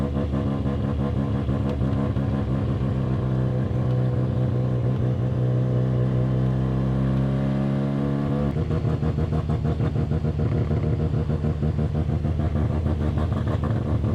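Rebuilt Mazda RX7 engine heard from inside while driving, a loud continuous buzzing drone that holds steady and then drops to a lower, rougher pitch partway through.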